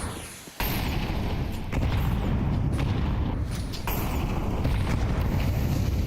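Grenade blast in Counter-Strike during a BLAST Open Porto 2026 pro match: a loud sudden boom near the start, then a sustained roaring rumble of dense noise that runs to the end without a voice.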